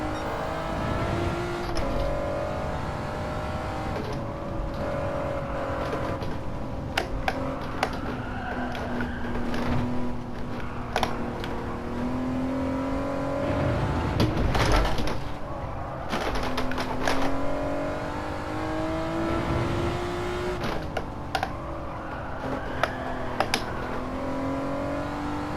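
A four-wheel-drive car drifting in Gran Turismo 7 sends its engine revving up and down in repeated sweeps, with tire scrub and short sharp ticks through a continuous, loud run.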